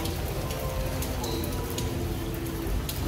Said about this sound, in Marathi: पाऊस थोडा पडतोच आता